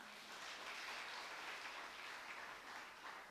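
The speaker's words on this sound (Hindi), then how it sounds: "तनक बजा लो ताली।" Sustained audience applause at a Jain religious discourse, a dense steady wash of many hands clapping together, fairly loud and continuous with no speech over it.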